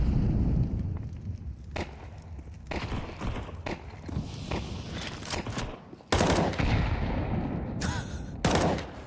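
Glock pistol fire in a Counter-Strike match cracks out in scattered sharp bursts amid footsteps and busy game noise, with a few louder, closer shots near the end.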